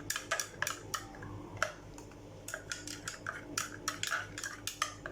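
A utensil stirs a homemade salicylic acid face cleanser mixture containing polysorbate 80, making repeated close clinks and scrapes against the container in an uneven rhythm, with no voices.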